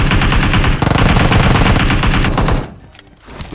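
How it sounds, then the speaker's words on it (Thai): Rapid automatic gunfire in the mobile battle royale game PUBG Mobile, a dense loud burst of shots lasting a couple of seconds before cutting off, followed by quieter fainter sounds. "เขายิงกันแล้วเนี่ย"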